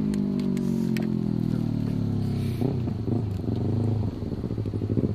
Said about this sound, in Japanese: バイク来た、